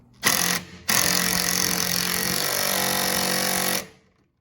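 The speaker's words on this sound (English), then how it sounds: "I'm going to use my air tools or my electric impact" Electric impact wrench tightening a rear sway bar link on a Toyota Camry: a loud, continuous buzzing hammer that starts with a short burst, pauses briefly, then runs steadily for about three seconds before cutting off.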